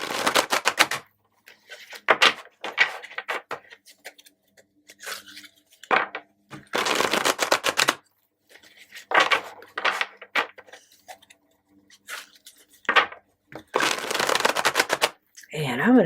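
Repeated bursts of crisp riffling and slapping as a deck of tarot cards is shuffled, in short quick bouts separated by pauses, close and clear.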